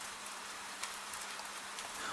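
Gentle rain falls steadily on a night in old Edo, a soft continuous patter with occasional slightly sharper drops, quiet and even throughout, with no voices.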